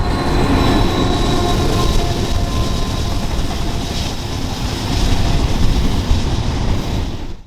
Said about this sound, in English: This first intermodal train is being powered by 3 locomotives